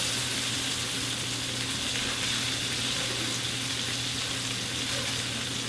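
Wild rice being stirred around in a hot pan with a delicata squash dish, a steady soft sizzle and faint hiss running the whole time, quiet and without voices.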